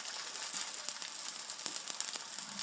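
Reziza pastry sizzles in melted butter in a pan, giving a steady close crackling fry with scattered sharper pops and spits.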